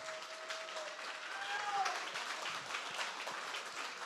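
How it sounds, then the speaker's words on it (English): A bar audience at an astronomy talk night gives the speakers a steady round of applause. The clapping is continuous, with a brief whistle-like tone near the start. "Let's give another round of applause for our two great speakers today."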